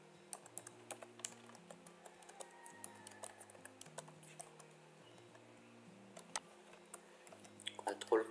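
Rapid clicking of typing on a computer keyboard while entering text in Photoshop, with soft irregular keystrokes running steadily throughout over a low background hum.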